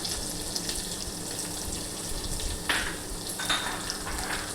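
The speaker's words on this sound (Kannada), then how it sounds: "ಈರುಳ್ಳಿನೂ ಅಷ್ಟೇ ಬ್ರೌನ್ ಕಲರ್ ಬರೋವರೆಗೂ ಚೆನ್ನಾಗಿ ಎಣ್ಣೆಯಲ್ಲಿ ಫ್ರೈ ಆಗಬೇಕು" Onions fry in oil for a methi rice bath, a steady close sizzle with a few sharper crackles and stirring scrapes partway through.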